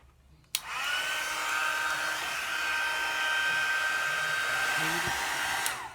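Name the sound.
heat gun blowing on sublimation tumbler wrap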